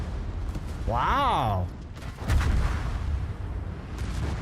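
Naval gunfire in World of Warships, deep booming artillery rumbles rolling in over a whistling sweep of incoming shells, with a voice briefly exclaiming over the din.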